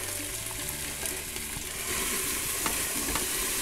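Onions and chorizo fry in a very hot pot of a cook4me cooker, giving a loud, continuous close sizzle with light stirring scrapes that grows slightly fuller partway through.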